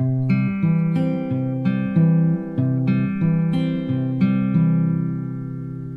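A plucked guitar plays a steady, quick fingerpicking pattern, clear harmonic notes ringing over a repeating bass, with no voices.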